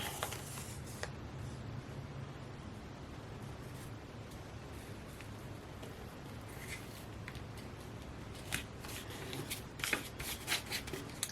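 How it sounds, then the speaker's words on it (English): Pianola paper is laid down and handled on a junk journal collage, giving soft papery rustling and shuffling that grows busier toward the end with a few sharper crinkles, close and fairly quiet, with no talking. "And I'm going to put the pianola paper"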